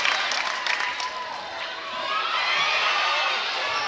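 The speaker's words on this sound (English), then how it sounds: "the crowd's starting to get right into this game now" A netball grand final crowd cheering and shouting as the game heats up, a broad steady roar of many voices that rises and falls, with commentary speech mixed in.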